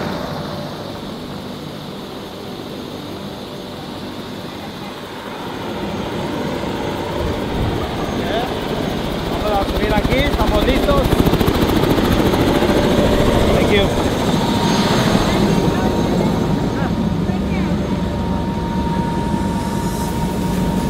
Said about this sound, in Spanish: vamos aquí ahorita a dar el helicóptero